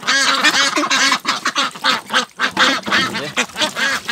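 Ducks quack loudly and rapidly while eating fruit, a dense overlapping chorus of nasal calls from several birds close by, with no talk.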